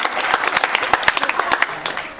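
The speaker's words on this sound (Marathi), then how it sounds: "सर्वांनी जोरदार अशी टाळी या ठिकाणी वाजली पाहिजे" An audience at a Marathi devotional kirtan gathering clapping in a brisk burst of applause, many hands giving sharp, close, uneven claps for a couple of seconds, with voices mixed in underneath.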